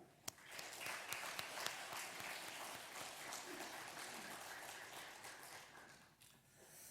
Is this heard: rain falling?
no